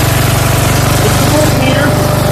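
A 1988 Ranch King L158B riding mower engine running partly on choke, a loud, steady, rapid thumping idle very close by, with someone talking over it.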